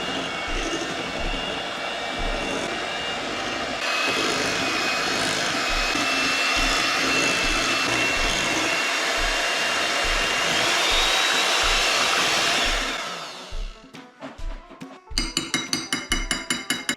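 A blender whirs loudly and steadily while mixing mango float ingredients with cream and condensed milk, a dense motor roar that winds down near the end into clattering, uneven spinning.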